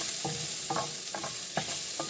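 Garlic sizzles in a frying pan under a steady hiss, with about five quick scraping stirs at a brisk, even rhythm, close and fairly quiet.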